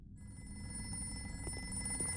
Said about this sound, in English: Answer the call. The phone is to your right.